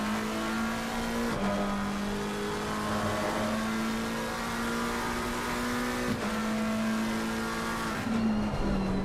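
Lamborghini and McLaren race cars in the Shooting Stars Cup at Imola, heard as a loud, steady engine roar at close range with two gear shifts and a brief drop in pitch near the end.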